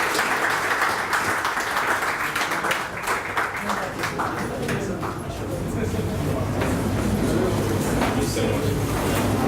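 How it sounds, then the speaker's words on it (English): Crowd applause for speakers at a startup week event, a broad wash of clapping that dips briefly midway then swells back, with talking mixed in at times. "Can we have a round of applause for them?"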